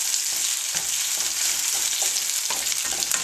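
Mushrooms, shallot and onions fry in a pan with a steady, bright sizzle that runs throughout, close and fairly loud, with a few soft stirring scrapes and no talking.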